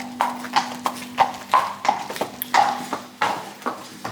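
Horse hooves clip-clopping at a steady, even walking rhythm during a test ride on a yard before a show, close and distinct with no talking.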